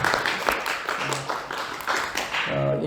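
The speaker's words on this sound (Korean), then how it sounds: "우리 하나님께 영광의 박수를 올려드립니다" A church congregation clapping during a Sunday worship service, steady crowd applause with a faint low tone emerging near the end.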